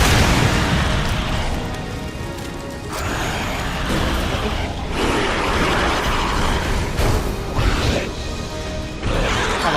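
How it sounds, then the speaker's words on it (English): A flashbang grenade goes off in the Resident Evil 2 remake, a dense roaring blast with crashing debris. The noise stays loud and continuous, with sharp bursts near 3 and 5 seconds and another near 9 seconds. "Have a flashbang."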